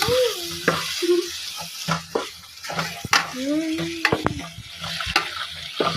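A spoon stirs tomatoes into mashed eggplant for baingan bharta in a frying pan, giving soft scraping and gentle sizzling with a few clinks, close by and steady, without talk.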